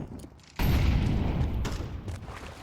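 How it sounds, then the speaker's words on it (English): A sudden burst of Counter-Strike gunfire on the map Overpass bangs in after a quiet moment, followed by a rumbling, echoing tail of shots and impacts. "exchanges some gunfire"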